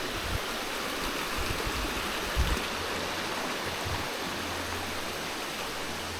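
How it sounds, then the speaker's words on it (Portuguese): Small waterfalls and stream water flowing at a spring area in a garden near Canela, a steady soft hiss of running water with occasional low thumps, and no voices. "e com isso a formação de pequenas quedas d'água"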